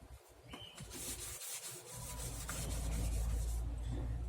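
A cloth rubs across wood during shellac application by a luthier, giving a steady close scraping and rubbing that grows fuller and more continuous, with no talk.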